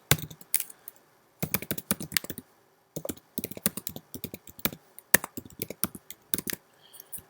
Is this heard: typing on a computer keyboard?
yes